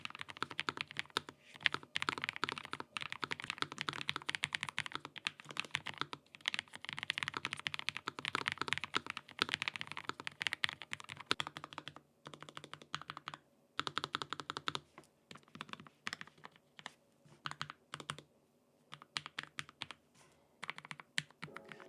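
Rapid, steady typing on a Lofree Flow low-profile mechanical keyboard, with crisp close-up clacks in quick bursts and a few short pauses.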